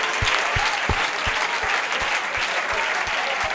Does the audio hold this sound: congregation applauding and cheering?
yes